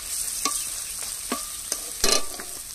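Spices frying in oil in a pan for a chicken dish, a steady sizzle broken by several short scraping stirs of a spoon, close and fairly quiet, with no talking.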